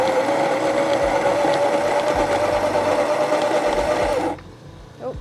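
A Baratza Encore ESP coffee grinder grinding beans, a steady close motor whir with a constant hum that cuts off abruptly near the end.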